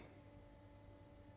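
A Lavazza Idola A Modo Mio coffee machine, switched into descaling mode, gives a short electronic beep tone, repeated once, clear and close over a steady background hum.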